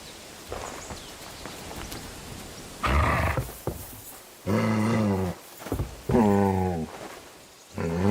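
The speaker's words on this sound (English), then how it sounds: "Get out of here, mutt! No one wants to hear you barking." A dog barks in Kingdom Come: Deliverance 2, several loud, harsh bursts separated by short pauses, interspersed with other game sounds.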